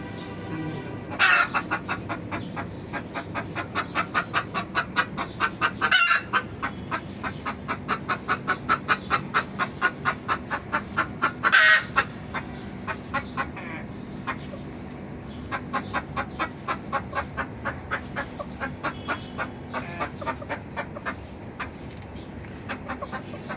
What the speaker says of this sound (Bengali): সেটা কক করতেছে দুইটা দুইটাই কক করতেছে